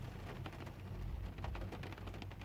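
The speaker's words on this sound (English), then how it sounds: "now we've got torrential rains" Torrential pineapple-express rain in Vancouver pours down as a thick, continuous hiss with a heavy low rumble beneath, dense patter of drops throughout, close and steady with no voices.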